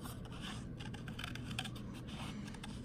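Scissors snip through paper along a drawn line while a hexagon tessellation shape is cut out, heard close and quiet as a run of short, uneven crisp cuts over a faint room hum.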